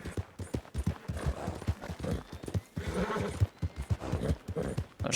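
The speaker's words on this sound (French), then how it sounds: "J'entends des chevaux au loin." Horses in Red Dead Redemption, rapid hoofbeats clip-clopping in an irregular rhythm with a neigh mixed in, fairly clear and close rather than faint.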